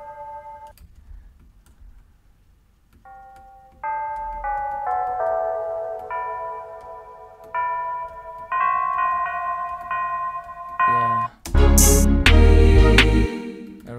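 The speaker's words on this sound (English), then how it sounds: "So let's add a church bell." Church bell sample struck in a trap beat over a soft low bass pulse, its tones stepping in a repeated melodic pattern and gradually layering, with heavy drum hits and a booming kick entering near the end.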